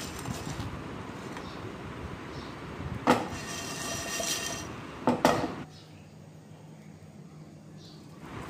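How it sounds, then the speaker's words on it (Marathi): Whole spices such as cardamom, cinnamon, cumin and coriander seeds dry-roasting in a pan, with two sharp metallic clanks of a utensil against the pan over a soft background hiss. "आधी हे मसाले आपल्याला भाजून घ्यायचे आहेत"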